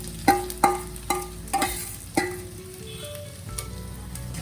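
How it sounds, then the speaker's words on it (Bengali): Rice fries with cashews and raisins in a pan, a series of five or six ringing metal clanks of a ladle against the pot over a low steady sizzle, close and without speech. "চালটা দেবার পর গন্ধ বেরোনো অবধি একটু আমি ভাজা করে নেব।"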